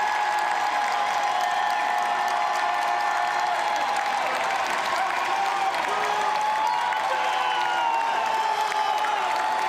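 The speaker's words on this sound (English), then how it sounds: "people cheering for Abdul, who spoke after McMorrow" A large political rally crowd cheers and applauds for a speaker named Abdul, a dense, continuous roar of clapping and voices that stays loud and steady throughout.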